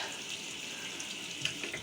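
Water runs from a sink tap in a steady, soft rush for the whole stretch, with a few faint splashes near the end.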